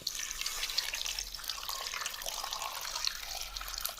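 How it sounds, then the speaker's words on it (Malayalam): Water is poured into a pressure cooker holding neendikka seeds during village-style cooking, a steady, soft splashing stream that runs throughout. "ഇനി നമ്മൾ അതിലേക്ക് ആവശ്യത്തിനുള്ള വെള്ളം ഒഴിച്ചു കൊടുക്കുന്നുണ്ട്"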